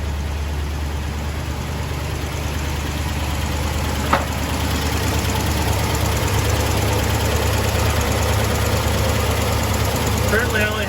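A 1975 International D150 pickup's engine idles steadily with a deep, even rumble throughout, running with only the alternator belts fitted, while someone talks over it.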